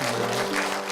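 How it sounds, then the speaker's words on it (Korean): A church congregation at a Korean service claps together in dense, steady applause that fills the whole second without a break. "이곳에 불러주신 하나님께 영광의 박수 올려드리겠습니다"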